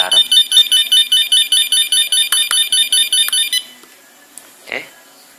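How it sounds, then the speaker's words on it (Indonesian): A countdown timer module's buzzer alarm sounds once time runs out, rapid repeated electronic beeps in even pulses for about three and a half seconds before stopping, with faint speech after. "dan ada alarm"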